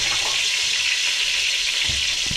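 Onions frying in a pan give a steady broadband sizzle that holds evenly throughout, with faint low thumps from handling; no one speaks.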